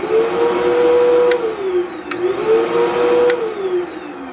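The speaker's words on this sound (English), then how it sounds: "I have the switch on the shop vac on. That's important. Now it should go on." A shop vac switched on by a remote relay roars close and loud with a steady whine, its motor pitch dipping and rising in slow cycles, broken by a few brief clicks.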